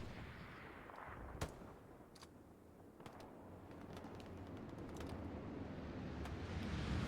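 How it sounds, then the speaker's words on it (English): Gunfire in the World War II shooter Hell Let Loose comes as scattered distant cracks and booms over a steady rumble of wind and battle ambience, with a couple of sharper reports standing out. "Tito Crema hearing the shooting, pushing that way"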